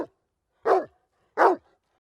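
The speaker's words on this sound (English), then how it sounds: "D-O-G. Dog." A dog gives two sharp, loud barks about three-quarters of a second apart, each clear and close against silence, with the tail of an earlier sound at the start.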